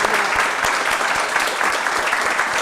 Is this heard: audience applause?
yes